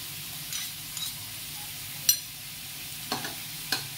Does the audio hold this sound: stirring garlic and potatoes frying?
yes